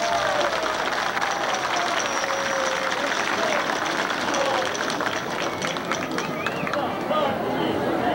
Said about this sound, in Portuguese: A eles que não puderam estar aqui hoje presente, o nosso muito obrigado e uma salva de palmas